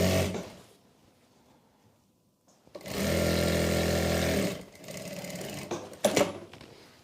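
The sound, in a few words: sewing machine stitching a salwar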